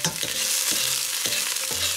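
Green onion hitting hot oil in a second pan, a loud, bright sizzle that stays strong and close, broken by a few knocks and scrapes of a utensil against the pan at regular intervals.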